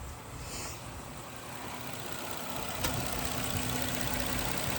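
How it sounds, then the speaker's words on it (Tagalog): A car engine runs at idle, a steady broadband hum close by that swells slightly toward the end, with a faint short tick near the middle. "Tingnan na natin yung andar ng makina."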